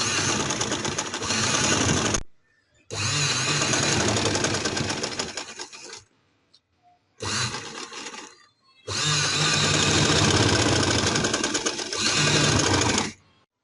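A sewing machine stitches lace onto trousers in several long, loud, continuous runs, each broken by short near-silent pauses, with a dense whirring needle rhythm heard close up and no voices.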